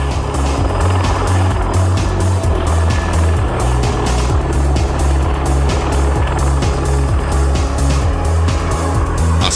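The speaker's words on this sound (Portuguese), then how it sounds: "O Osprey decola como um helicóptero" A V-22 Osprey tiltrotor lifting off vertically like a helicopter, its loud rotors pounding in a rapid, steady beat over a heavy, continuous engine roar that stays close and powerful throughout.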